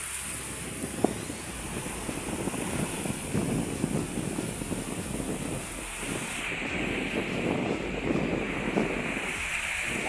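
Strong wind roars steadily across the microphone with a constant rush of open sea and surf beneath, murky water off the Philippines at night, no voices.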